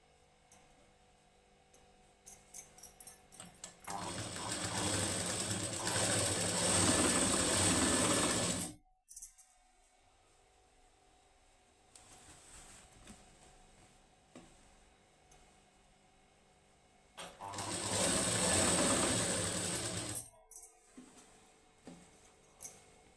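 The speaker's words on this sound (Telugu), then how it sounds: "ఈ 3 డాట్లని కలుపుకొని స్టిచ్ చేసుకోవాలి" A sewing machine stitches the high neck of a plain blouse, running in two long, loud whirring bursts separated by quieter handling and short clicks.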